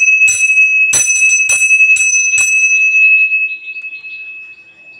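A metal temple bell just hung at a shrine is struck four or five times in quick succession, each bright ringing strike loud and close, with a sustained high tone that lingers and slowly fades afterward.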